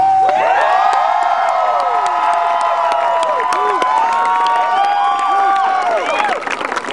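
A rally crowd cheers, whoops and applauds after an open-mic song performance, loud and sustained and close, with many voices shouting together throughout.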